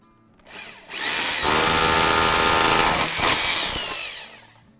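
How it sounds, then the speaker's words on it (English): A power drill boring a hole while hanging a transformer, the motor whining up to a loud, steady drilling run that dips briefly near the end before winding down. "Take my drill,"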